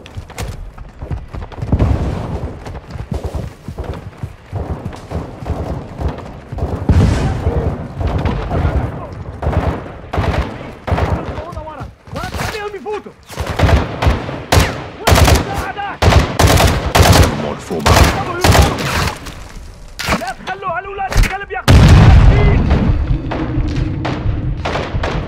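Rocket fire and gunfire in a Call of Duty Modern Warfare 2 (2022) battle at a crash site: dense, loud machine-gun bursts and heavy thuds of impacts mixed with shouted radio chatter throughout.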